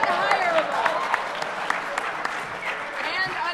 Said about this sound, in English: you guys all are clapping